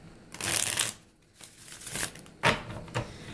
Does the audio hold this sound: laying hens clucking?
no